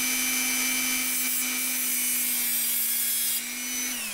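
Nickel-plated steel battery strip scraped against an abrasive, giving a steady, close, harsh grinding hiss with faint ringing tones that holds for several seconds, then briefly shifts near the end.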